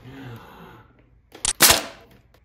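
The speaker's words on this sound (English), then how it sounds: "Nerf gun." A toy Nerf gun fires with a quick double pop, a short sharp snap followed by a louder, breathy burst, close by after a quiet moment.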